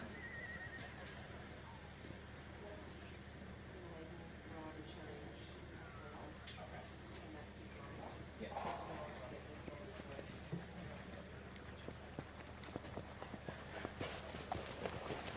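Horses at an Australian campdraft, neighing and hoofbeats rising toward the end amid arena noise, heard faintly beneath a commentator's announcing voice.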